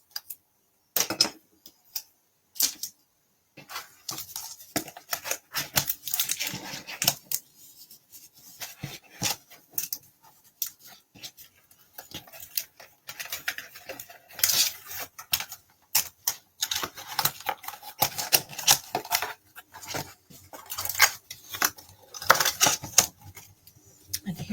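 Scissors cut a small hole out of paper stock for a paper storage box, a quiet, irregular series of close snips and crisp paper rustles broken by brief pauses.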